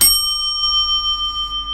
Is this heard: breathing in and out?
no